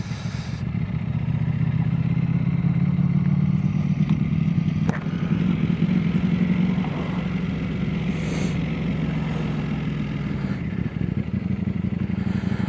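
A Ducati motorcycle being ridden on the road, its engine a steady close drone with slight shifts in pitch and a brief lull midway, no talking.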